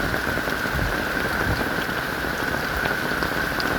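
Heavy rain pours steadily on a food forest after a cyclone, a dense, even hiss of drops close by with no talking.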